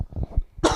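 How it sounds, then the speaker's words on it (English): A single sharp cough sounds close to the microphone during a studio podcast conversation, preceded by faint low murmuring. "there go that cough"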